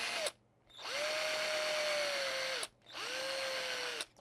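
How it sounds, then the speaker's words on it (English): A weakening cordless drill whirs in two steady bursts of about two seconds each, countersinking screw holes in a fingerboard, with short pauses between, its motor pitch dipping at the start of each run. "Uh-oh, my drill's dying."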